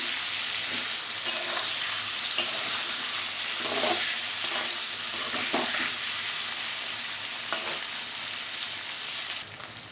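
Paneer and potatoes fry lightly in hot oil for a vegetarian curry, a steady dense sizzle with occasional stirring scrapes and crackle bursts, loud and close throughout.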